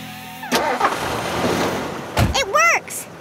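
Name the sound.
car engine starting after turning the key, cartoon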